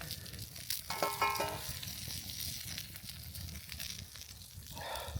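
Food frying in a good pan set directly on a campfire at a high-altitude mountain bivouac. A steady, faint sizzle runs throughout, with a few sharper crackles near the start.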